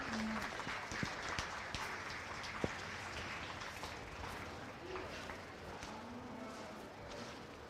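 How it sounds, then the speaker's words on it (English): Crowd applause at a county fair beef show, a soft, steady patter of clapping heard from a distance, with a few sharper claps and brief faint talk. "Let's go ahead and give both those young ladies a nice round of applause"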